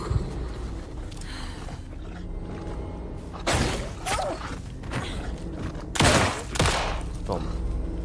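Gunfire from a handgun in Alan Wake 2 as the player fights a wolf: a few loud, sharp bangs at intervals over steady game ambience and background music.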